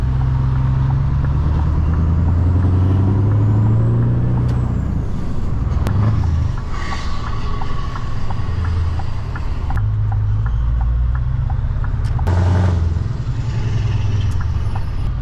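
A truck with a straight-piped V8 pulls away with a loud, deep, rumbling engine drone that rises and falls through gear changes, with occasional sharp air hisses and no talk.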